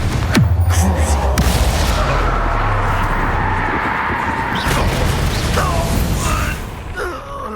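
Confringo blasting spell in a Hogwarts video game: a sharp crack followed by a heavy booming explosion and a long rumbling roar that dies away after several seconds.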